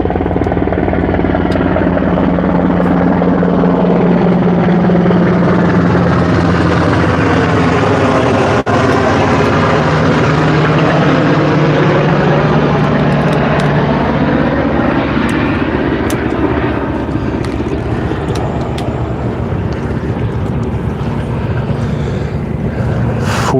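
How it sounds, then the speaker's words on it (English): An aircraft, likely a helicopter, flies over a fishing boat on the water, a loud sustained engine drone that swells and sweeps in pitch as it passes close overhead and slowly recedes. "Flyover."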